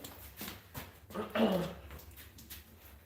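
A dog whimpers and yips in short, plaintive bursts close by, with a louder whine in the middle over a quiet indoor background.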